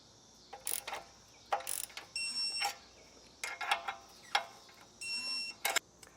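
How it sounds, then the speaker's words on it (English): Ratcheting clicks from a wrench tightening bolts while installing rear air helper springs, several short bursts of rapid clicks separated by pauses, with occasional faint whirring tones. "And now I'll torque them down as well."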